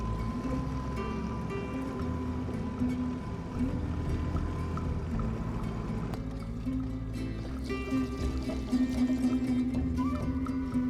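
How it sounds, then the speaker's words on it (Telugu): A boat engine runs steadily with a low droning hum while the boat reverses on the Pacific Ocean, the sound continuous and fairly close throughout. "కొంచెం ఇంజిన్ ఆన్ చేసుకుని కొంచెం పక్కకు జరుపుకుందాం"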